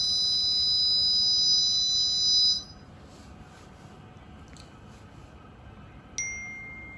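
An IoT smoke alarm system, with an MQ135 gas sensor triggered by lighter gas, sounds a steady high electronic tone that cuts off after a few seconds, followed later by a single short beep.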